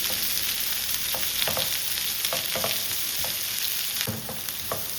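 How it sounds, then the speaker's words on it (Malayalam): Chopped onion and green chillies dropped into hot oil in a pan for egg rice, a strong steady sizzle close up with a few spoon scrapes and knocks, no talking. "എണ്ണ ചൂടായിട്ട് ഇട്ടപ്പോൾ കണ്ടില്ലേ നല്ല ചത്തണം."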